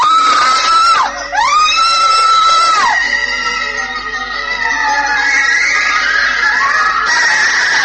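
A man's loud, sustained scream with wavering pitch, shrill and close, stretched over several seconds with brief breaks.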